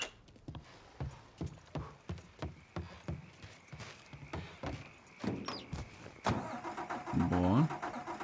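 A car engine starts in Mafia 3 after a run of footsteps, cranking and then catching into a rising, rumbling idle near the end, while someone talks over the game sounds.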